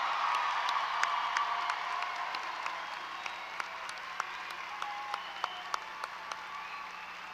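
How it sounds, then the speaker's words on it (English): Sustained applause from a graduation crowd at a 2024 high school commencement, steady dense clapping with scattered louder individual claps standing out near the end, heard from within a large gathering. "Let's give our graduates another round of applause."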